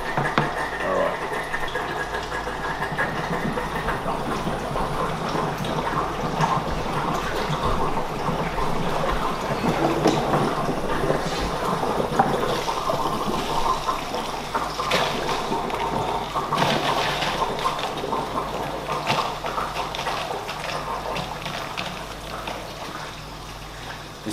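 A pump and hose pour water steadily into an aquarium tank. The flow is a continuous, close, rushing trickle that lasts throughout, with faint background sounds mixed in.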